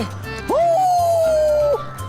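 A dog gives a single drawn-out, whining howl about a second long, loud and close, framed by brief low background sounds before and after.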